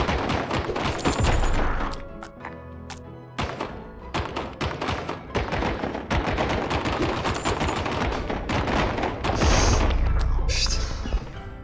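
Loud, rapid cannon blasts and explosive bangs fire in dense bursts during action in the video game The End Is Nigh, with booming impacts throughout.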